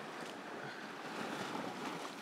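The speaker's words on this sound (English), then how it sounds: "white water splashing up on the rocks here" Sea water surging and splashing against rocky shoreline on Anglesey, a steady broadband wash of surf with gusty wind noise, continuous and moderately faint with no voices.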